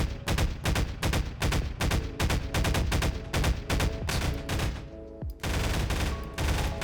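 Rapid automatic bursts from the AR2 rifle in Garry's Mod, loud sharp shots in a fast even rhythm with a short pause before firing resumes.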